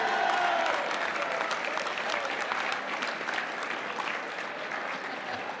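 Steady applause from a dinner audience at the White House Correspondents' Association gathering, a dense, even wash of clapping that holds for several seconds and slowly eases off without a break.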